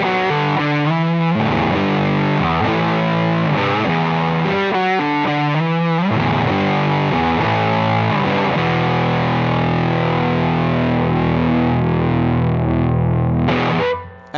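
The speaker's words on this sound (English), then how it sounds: "So we start out with that fairly rat-like distortion." Electric guitar through the Old Blood Noise Endeavors Excess V1 pedal's Rat-style distortion, playing gritty chords and riffs continuously, loud and saturated, with no voices.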